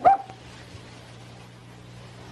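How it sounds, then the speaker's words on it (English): A single close, sharp dog bark at the start, dropping into a faint low hum for the rest of the clip. "Now that dog started barking"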